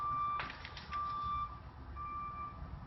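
A truck's reversing alarm beeps in slow, steady tones over low engine rumble, sounding from a short distance.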